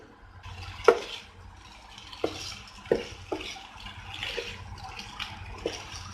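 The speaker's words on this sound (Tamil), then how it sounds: "நல்லா இந்த மசாலா எல்லா பிரெட்லையும் கோட் ஆக்குற மாதிரி நம்ம மிக்ஸ் பண்ணி போறோம்." Bread pieces being stirred and tossed with masala in a pan, giving soft scraping and occasional sharp clinks of a spoon against the metal, close and irregular, without speech.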